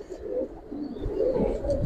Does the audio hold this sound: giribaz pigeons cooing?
yes